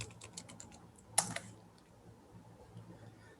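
Soft typing on a computer keyboard, with faint light taps and one sharper cluster of keystrokes, heard nearby in a quiet room.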